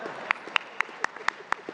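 Audience at a formal speaking event in Rwanda attended by the president clapping in unison, seven sharp, evenly spaced claps in a brisk steady rhythm, fairly close.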